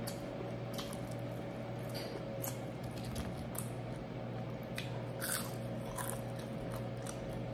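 Crispy spicy garlic shrimp is bitten and chewed close to the mic, with repeated crunchy crackles and squishy mouth sounds over a steady low background hum; no one speaks.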